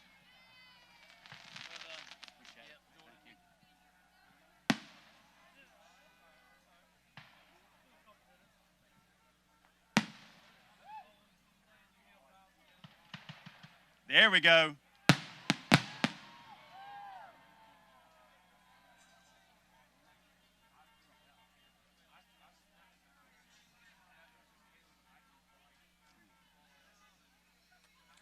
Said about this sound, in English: Or the rest of the fireworks show